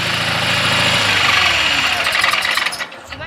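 A Simplicity Sunstar 20 hp tractor engine with hydrostatic drive runs steadily and loud nearby, then shuts off and goes quiet near the end.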